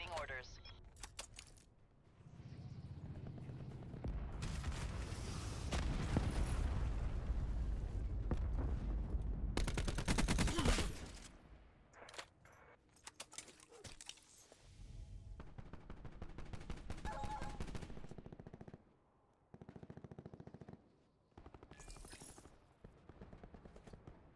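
Call of Duty Black Ops 4 gunship firing its guns, with heavy bursts and explosions that surge loud, drop away and return in uneven waves, sometimes cutting to near silence between volleys, with voices heard at times.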